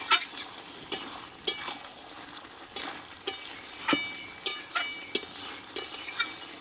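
Mixed vegetables for pachtarkari stirred in a pan, with a metal spoon scraping and clinking at a steady beat about twice a second over a soft, low sizzle.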